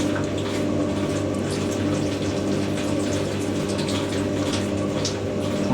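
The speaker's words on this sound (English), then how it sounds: "That is a lot of water coming out of that" Hotpoint WD64 washer dryer in a full-heat drying cycle drains water with a steady pump hum and continuous gushing, trickling flow, close and constant throughout.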